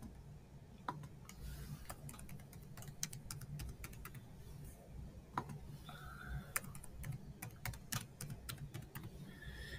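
Rapid, irregular clicking of a computer keyboard as a username and password are typed, steady close keystrokes running through the whole stretch over a low background hum.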